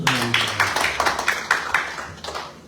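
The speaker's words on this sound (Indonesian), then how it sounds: "Berikan tepuk tangan untuk Tuhan" A church congregation clapping in a steady rhythmic beat, about eight or nine claps in a row, near and moderately loud, with a brief voice at the start.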